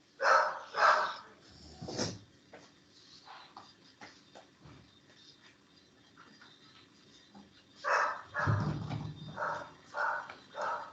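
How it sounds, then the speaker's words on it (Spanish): A dog barks in a few short bursts near the start and again toward the end, moderately loud indoors, with quieter shuffling in between. "voy a cerrar la puerta porque está Lisandro ladrando"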